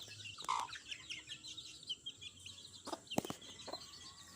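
Pet chickens cluck softly in a farmyard, with scattered short clucks and chirps and a couple of sharper knocks, fairly faint and without talk.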